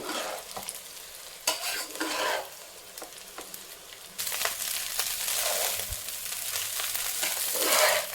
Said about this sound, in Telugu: రైస్ వేసిన తర్వాత ఇంకా మనం ఇలా తిప్పేసుకోవడం ముందు మొత్తం కలిసేలాగా